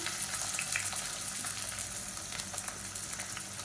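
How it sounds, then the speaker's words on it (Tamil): Whole garam masala spices fry in hot oil for a white biryani, a soft, steady crackling sizzle with occasional light pops, close but fairly quiet. "இப்போ கரம் மசாலா எல்லாமே பொரிய ஆரம்பிச்சிருச்சு"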